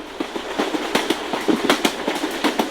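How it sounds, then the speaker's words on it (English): Train sound effect resembling a New York L subway train: rhythmic clickety-clack of wheels over rail joints, fairly loud and steady, with no voices. "this is definitely a train, a train type of sound effect"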